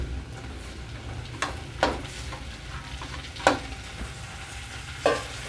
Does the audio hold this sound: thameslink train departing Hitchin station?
no